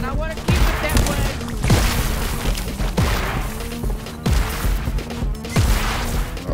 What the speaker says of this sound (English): quit shooting at me